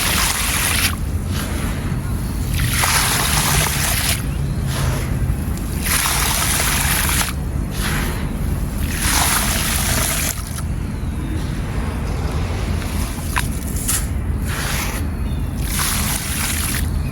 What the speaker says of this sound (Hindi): पानी ऐड करके इसी में पौरे।